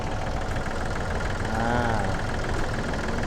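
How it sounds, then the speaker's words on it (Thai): A Yanmar EF393T 39 hp used tractor engine runs steadily nearby, a loud continuous diesel rumble with a slight rise in pitch partway through, no speech over it. "รถคันนี้นะครับ 39 แรงนะครับ ก็เหมาะกับงาน ไล่งานสวนนะครับใช้งานทั่วไปเนาะ"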